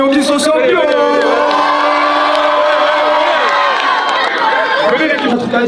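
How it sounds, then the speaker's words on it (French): A crowd at a junior and senior NF Cup tournament cheers and shouts loudly for the Montreuil teams, a dense roar of whoops and voices. "Un maximum de bruit s'il vous plaît pour les Montréaux qui sont sortis."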